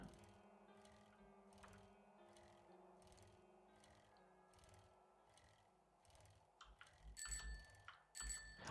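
A bicycle bell in the game 7 Days to Die rings in a steady repeating rhythm, bright metallic dings about every half second, followed by louder clattering thumps near the end.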